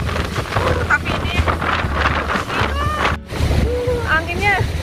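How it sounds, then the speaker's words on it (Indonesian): Strong wind buffeting the microphone on open reclaimed land at Schokland, a former island in the Netherlands, a loud continuous low rumble with gusts throughout, while a person talks over it. "Tuh anginnya kenceng banget teman-teman"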